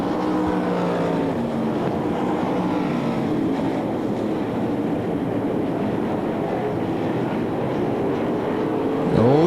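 Sprint car engines roar steadily on a dirt track during a 360 sprint car race at the Knoxville Nationals, a dense, loud drone that holds throughout without a break.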